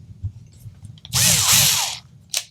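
A power drill backs bolts out of a Schecter guitar's bolt-on neck in one close whirring burst of about a second, with the motor pitch sweeping up and down. A brief click follows, and quiet room tone surrounds it.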